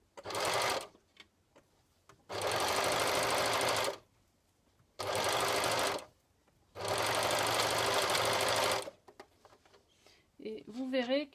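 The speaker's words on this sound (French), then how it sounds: "Et là, vous allez appuyer sur votre pédale." Serger sewing machine run by pedal while changing thread colour, four loud bursts of fast mechanical whirring separated by pauses, with a short spoken phrase at the end.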